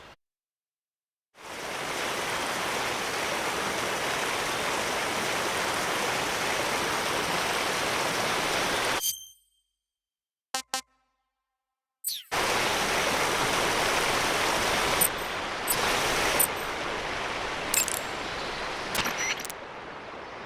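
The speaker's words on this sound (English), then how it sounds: "Keep going upstream until you get to a waterfall." Steady rushing waterfall and stream in Metal Gear Solid Delta: Snake Eater, a dense continuous roar that cuts out briefly midway and then resumes with a few short game sound effects on top.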